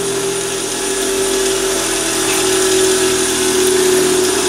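A grinding wheel runs steadily as the ends of a compression spring are pressed against it, a loud continuous whine with a constant hum beneath, close and uninterrupted.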